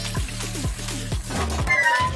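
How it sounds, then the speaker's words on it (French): A toilet flushes with steady, continuous rushing water for the full two seconds, close by and fairly loud, with music playing underneath. "La chasse d'eau, la chasse d'eau, la chasse d'eau."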